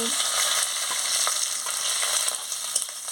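Chopped onion and green chili frying in a pan with panch phoron and dried red chili for a bitter gourd chorchori, a steady close sizzle with occasional stirring clicks throughout.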